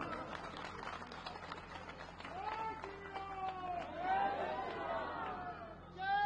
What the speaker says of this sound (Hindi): भाई एक बार जोरदार ताली बजाओ भाई।